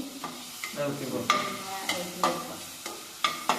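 Chopped tomatoes tumble into a hot frying pan for tomato rice, giving a close, steady sizzle broken by several sharp scraping stirs of a spoon against the pan.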